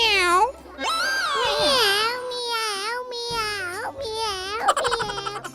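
A child imitates a cat with a run of drawn-out, rising and falling meows, close and clear, with a brief giggle near the end.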